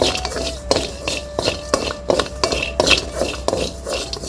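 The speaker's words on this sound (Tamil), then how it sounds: "நல்லா சூடாக வரைக்கும் வறுத்துக்கணும்" Walnuts dry-roast in a pan, stirred in a steady rhythm that produces repeated metallic scrapes and clinks of spoon against pan, close and fairly loud.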